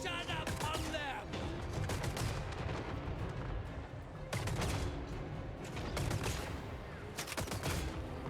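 Volley guns fire in rapid crackling bursts on a Total War Warhammer battlefield, loud clustered salvos with short gaps and a few scattered reports between them.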